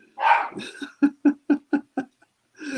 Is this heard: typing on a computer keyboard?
no